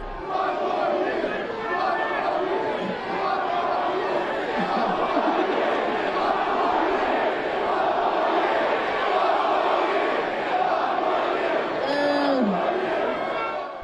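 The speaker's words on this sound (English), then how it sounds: "The crowd begging J.J. McCarthy to stay." A large stadium crowd of football fans cheers and chants steadily for J.J. McCarthy to stay, a dense continuous roar with voices and shouts mixed throughout.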